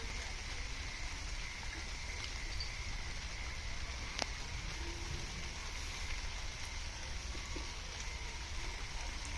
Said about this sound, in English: now I feel like they're feeling chilly because of the rain